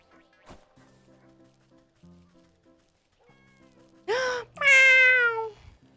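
A cat in the video game Wytchwood gives two loud, drawn-out meows near the end, following a few soft game chimes and tones, with no talking.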